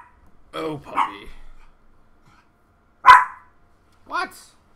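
A puppy gives a few short, high yips and barks, a cluster early on, then a sharp bark and a last yelp after a pause, close and clear in a quiet room.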